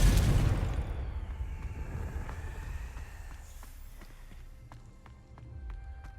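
A Confringo fire spell bursts in Hogwarts Legacy, a loud explosive blast at the start that rumbles and fades over several seconds, followed by scattered lighter clicks and ambient game sounds.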